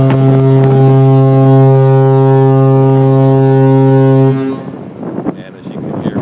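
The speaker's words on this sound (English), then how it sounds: "we've got the fog horn every minute or so, every couple of minutes" The Disney Wonder cruise ship sounds its deep fog horn in one long, loud, steady blast lasting about four seconds, followed by wind noise and faint voices nearby.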